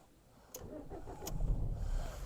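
A 2015 Dacia Duster Laureate with a 1.5 litre dCi diesel engine cranks briefly and catches at once, settling into a low rumbling idle, close and fairly loud with no talking.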